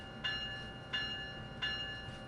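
A train runs in Train Sim World on the Northeast Corridor route in Old New York, a steady low rumble with three evenly spaced clanks, moderately faint and with no speech.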